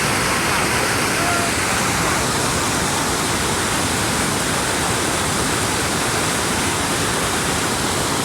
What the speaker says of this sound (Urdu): کتنی بلندی سے ابشار گر رہی ہے